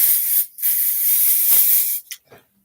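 An aerosol can of inexpensive hair spray from a hair store hisses in two long close bursts, the first under half a second and the second about a second and a half, followed by faint handling clicks.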